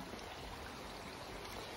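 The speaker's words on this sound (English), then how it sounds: "there is some type of spring or something running through into the river right here off all these rocks" Spring water trickles and streams over rocks into a river, a steady close hiss of running water with no talk.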